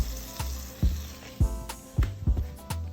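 Butter melting and sizzling in a hot pan at close range, a steady frying crackle broken by several soft knocks or clanks of utensils against the pan, with no talking.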